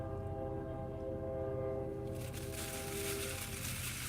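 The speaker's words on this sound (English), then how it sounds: "Oh, here comes the train." A train rumbles past close by in a steady, loud roar, a sustained horn tone carrying over the top before a broader hiss of rushing wheels and wind takes over.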